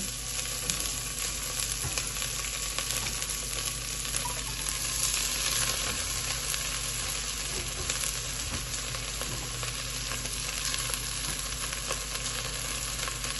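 Sliced onions frying in a pan for kadai chicken, a dense continuous sizzle that holds steady and close throughout, with no voices.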